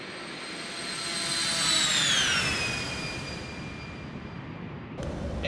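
A simulated aircraft engine at takeoff in X-Plane 12 swells into a steady roar with a high whine that slides downward as the plane climbs with gear coming up, ending in a brief click.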